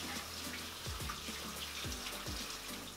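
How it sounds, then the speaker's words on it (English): Tap water runs steadily into a kitchen sink while hands are washed under it, a soft continuous splashing with faint interruptions, quiet and close. "let me wash my hands real quick"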